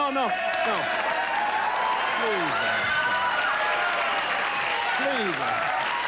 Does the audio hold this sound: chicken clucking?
no